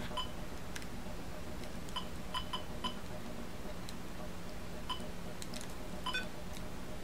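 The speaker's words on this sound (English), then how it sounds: "the little beep sound that it makes when you get attacked is so cheerful and high-pitched" Bright, high-pitched electronic beeps from a Fairchild Channel F video game sound as the player is attacked: short scattered blips, some in quick pairs, over a steady low console hum.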